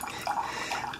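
An AICOOK single-serve coffee maker brewing, with steady watery trickling and dripping of hot water running through, close and continuous for about a second.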